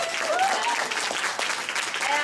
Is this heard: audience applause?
yes